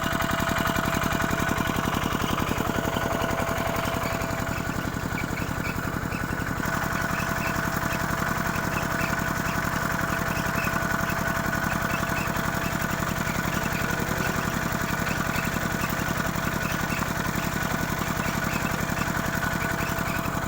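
A belt-driven engine powering a groundwater pump for rice fields runs steadily with a rhythmic mechanical chug and hum, constant and moderately quiet throughout, with no talking.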